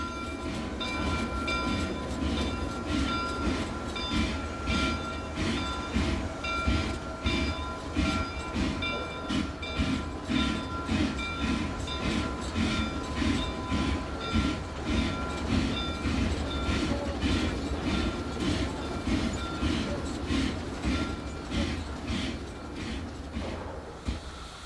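Sierra Railroad No. 38, a 1934 Baldwin 2-6-6-2 logging locomotive, hauls loaded boxcars with a steady, rhythmic clatter of wheels and exhaust that continues evenly throughout, with sustained tonal ringing riding on top.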